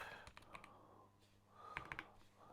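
Typing on a modded Keychron V3 mechanical keyboard comes through as a few quiet, irregular key clacks in two small bursts, faint and close against a low room hum.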